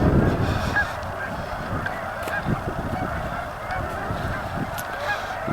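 Geese honk repeatedly outdoors among swans, a chorus of overlapping nasal calls at moderate distance over a steady background wash, with several sharper honks standing out.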